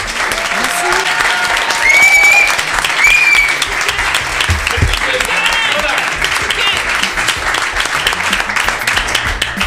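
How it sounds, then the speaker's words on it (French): A crowded audience at the close of a live tech talk show in a Paris venue claps loudly and steadily for nearly ten seconds, with scattered cheers and voices mixed into the ovation. "Vous pouvez vous applaudir."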